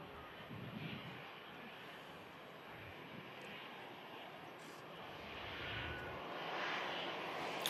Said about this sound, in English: Another EasyJet on approach.